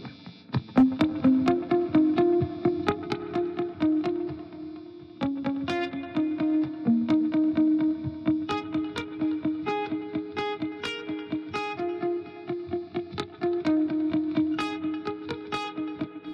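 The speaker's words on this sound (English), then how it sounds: "Overdrive, and I want, since it's a guitar, I want it all the way." An electric guitar with overdrive distortion turned all the way up plays a driving strummed and picked part, loud and gritty, with rhythmic attacks throughout and no voices.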